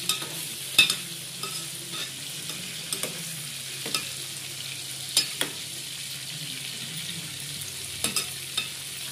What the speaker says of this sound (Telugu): నూనెలో వేసాముగా మధ్య మధ్య కలుపుకుంటున్నాను